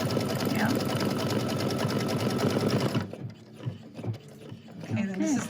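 A Brother Luminaire embroidery machine stitches in a fast, steady mechanical whir for about three seconds, then stops as a voice talks quietly nearby.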